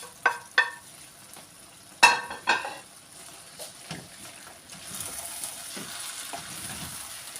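Stuffed pepper filling in a pot, with fresh mint, parsley and dill, is stirred over low heat, giving a few sharp spoon scrapes and clinks over a soft, steady sizzle that thickens toward the end.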